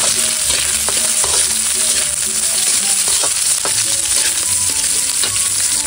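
Garlic and sliced onions hitting hot oil in a pan, a loud dense sizzle that stays constant, with stirring scrapes and knocks breaking through now and then.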